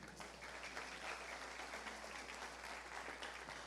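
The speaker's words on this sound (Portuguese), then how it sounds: "Se você crê, aplauda o Senhor" A church congregation applauds the Lord during a sermon, a faint, steady patter of clapping heard at a low level over a constant low hum.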